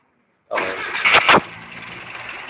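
A restored Volkswagen buggy engine, still cold, starts after a moment of silence with a short crank and a couple of sharp revs. It then settles into a steady, rough idle nearby.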